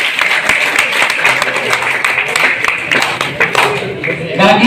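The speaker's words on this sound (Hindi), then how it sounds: "जोरदार तालियां बजाएं सर के लिए।" Applause for a teacher at a school farewell in class, a dense burst of many hands clapping close by, lasting a few seconds with some voices mixed in.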